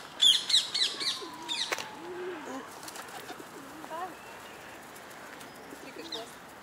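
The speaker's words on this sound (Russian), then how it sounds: "О, зеленый попугай." Sharp chirps and calls of a green parrot outdoors, a few bursts near the start with faint calls later, over steady background noise and a brief low voice.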